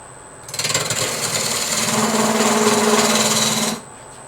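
A large woodturning tool cuts into spinning wood on a lathe, giving a loud, continuous rasping, shearing whir that lasts about three seconds. A faint steady machine hum sits under it before and after the cut.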